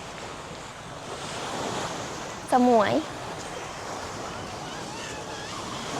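Sea waves wash continuously onto a Thai beach beside a seafood restaurant, a steady close roar of surf mixed with wind buffeting the microphone, while a voice briefly speaks over it.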